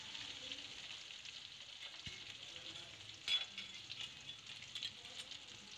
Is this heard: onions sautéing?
yes